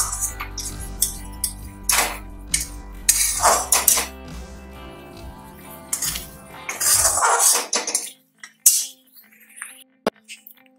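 Sugar and tomatoes for chutney are stirred in a pan over the heat, with a spoon clanking and scraping against the metal in irregular bursts, close, before things settle into near quiet with a few final clinks.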